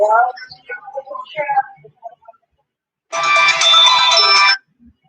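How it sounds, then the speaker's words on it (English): A mobile phone ringtone plays for an incoming call, a bright steady electronic melody lasting about a second and a half, close and loud, after a stretch of chirpy, broken sounds. "Somebody's calling me on the phone."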